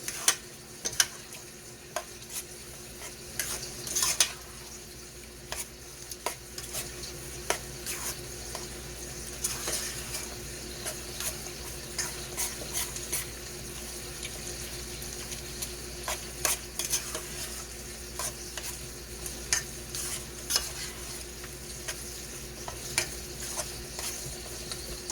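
A cheese and milk mixture gets stirred in a bowl, with repeated soft scraping and tapping strokes in an irregular rhythm, close and fairly quiet against a low steady background hum.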